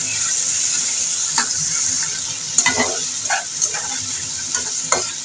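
Potatoes and spice paste sautéing in a pan for a rohu fish and potato curry, with a steady sizzle and repeated scraping strokes of a spatula stirring throughout, no voices.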